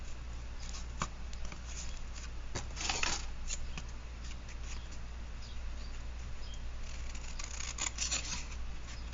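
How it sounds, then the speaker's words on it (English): Scissors snipping through paper for a collage background, with repeated close crisp cuts and rustling paper in a quiet room. "I am going to cut this out as the background"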